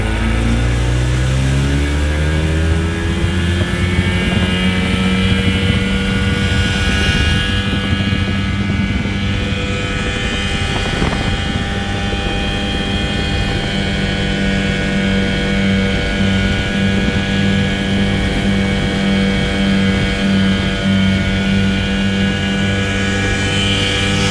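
An Addictor 190 mini boat engine roars at full throttle, its pitch climbing steadily as it accelerates, loud and close with a continuous droning whine and no speech.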